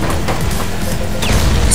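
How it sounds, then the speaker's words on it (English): Dense, loud booming bursts crowd together in a continuous noisy rumble, like several explosions going off in quick succession, in the racing video game Split Second. "Explosions."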